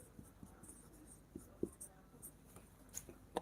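Marker or chalk writing on a classroom board while working a maths problem about the volume of rectangular boxes, heard as quiet, irregular scratchy strokes and taps that come and go, fairly close, with no talking.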